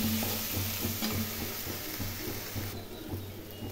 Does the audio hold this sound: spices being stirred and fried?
yes